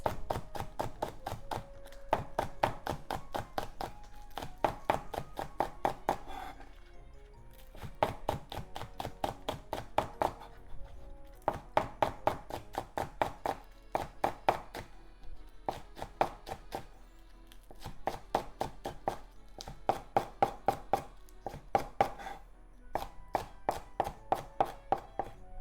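Knife chopping green onion into slices on a cutting board, steady rapid bursts of crisp close taps separated by short pauses, no talking.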